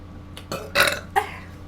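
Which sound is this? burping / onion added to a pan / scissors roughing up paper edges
burping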